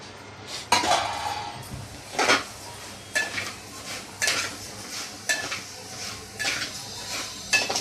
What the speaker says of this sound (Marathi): सर्वात आधी आपण तांदूळ भाजूया।